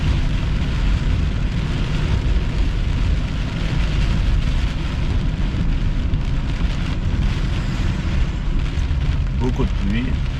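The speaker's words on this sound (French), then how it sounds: "Beaucoup de pluie." Heavy rain pours steadily throughout during a summer thunderstorm, a dense, loud wash of noise, with a brief tonal sound near the end.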